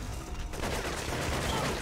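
Heavy machine gun fire from the PS2 shooter Cold Winter, a dense, continuous clatter of rapid shots at steady loudness for the whole stretch, with no voices over it.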